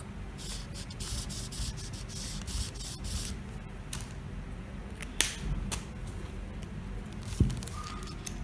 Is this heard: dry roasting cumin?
no